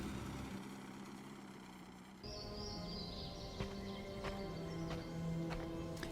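An old tractor engine idles in a WWII strategy video game, a steady low rumble running throughout, joined partway by game music and scattered clanks and effects.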